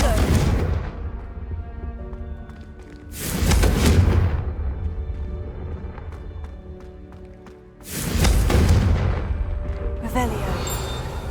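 Confringo blasting spell explosions in the wizarding game Hogwarts Legacy, two loud booming blasts with long rumbling tails a few seconds apart, followed by a sharper shimmering burst, with speech around them.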